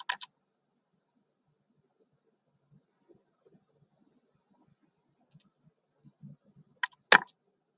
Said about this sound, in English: Just click on enter.